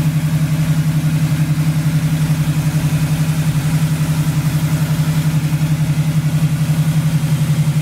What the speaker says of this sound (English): Not only does this engine compartment engine look good, it runs really good as well.